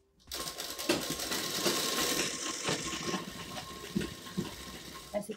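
A sewing machine runs steadily, stitching down one leg of a stylish jumpsuit for a 4–5-year-old child, its close mechanical whir holding for about five seconds with faint clicks and a few brief pauses.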